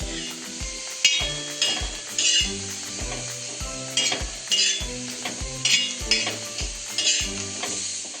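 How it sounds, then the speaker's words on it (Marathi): Spice masala roasts on an iron griddle, with a spatula scraping and stirring in quick repeated strokes. Metallic clinks and a soft sizzle come up close, roughly every half second, and no one speaks. "असं लोखंडी तवा घेतलाय, तर सगळं मी मसाला छान आता भाजून घेते"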